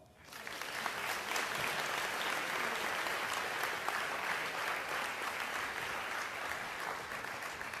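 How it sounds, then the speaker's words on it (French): Audience applause for a candidate at the final of an eloquence (public speaking) contest, a dense, even wash of clapping from a large crowd that swells in and holds steady throughout. "je vous propose d'accueillir et d'applaudir Aurore"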